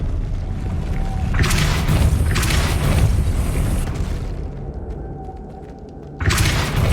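Depulso spell cast in the Hogwarts Legacy video game, heard as a loud, booming magical blast with a sustained rumble that fades, then a second burst near the end.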